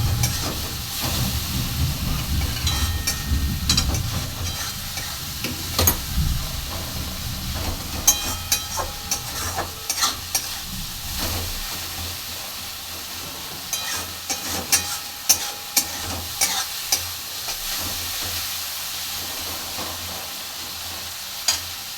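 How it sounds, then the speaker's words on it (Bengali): Masala with chopped tomato fries in oil in a pan, giving a constant sizzling hiss with scraping stirring strokes and clinks from the spoon, loudest at first and then settling to a softer crackle. "দিয়ে দেবো টমেটো কুচি, দিয়ে এটাকে ভালো করে কষবো।"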